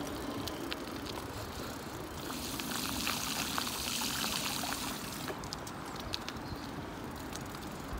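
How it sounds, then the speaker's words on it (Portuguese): After rain, water pours and trickles steadily in a continuous, even rush with faint clicks and drips over it, close by and unbroken throughout, no voices. "E vai descer mais água."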